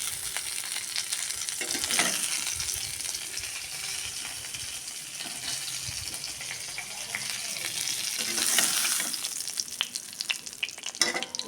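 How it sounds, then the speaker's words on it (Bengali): Fish pieces fry in hot oil in a village kitchen, giving a steady, close crackling sizzle with stirring scrapes and a louder burst of spitting near the end. "আমার মাছ ভাজাটা হয়ে গেছে,"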